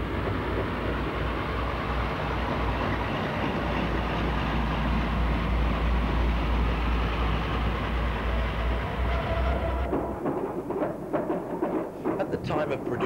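Diesel locomotive D1069 Western Vanguard rumbling past at Hale with a steady, heavy low drone of engine and wheels that cuts off after about ten seconds, leaving faint rattling and clatter.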